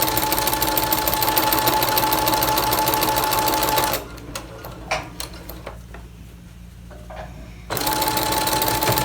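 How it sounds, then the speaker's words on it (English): Domestic sewing machine stitching a fabric face mask, a loud steady whirring run that stops for a few seconds of small handling sounds, then starts up again. "And I'm going to sew off all my scrap fabric."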